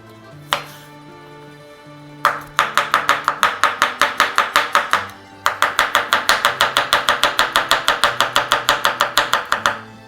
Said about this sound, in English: now we're gonna slice our garlic